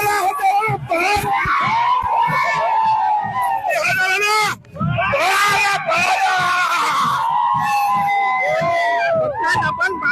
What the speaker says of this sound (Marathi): आपण बांगर जल्लोष करतायत आणि या ठिकाणी मोठी गर्दी आहे